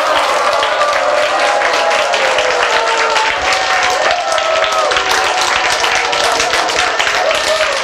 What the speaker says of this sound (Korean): 지금 박수 치고 함성을 한번 질러